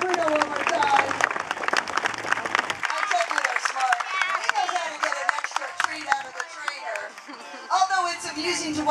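Fairground spectators at a bear show clap for Bruno the bear, a lively scatter of applause mixed with cheering and a loud announcer's voice carrying over it.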